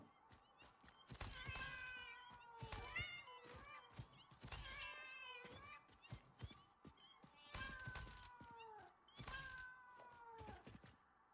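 A cat meows repeatedly within a coal-to-steel factory video game, the calls coming in separate bursts amid the game's busy clatter and thunks.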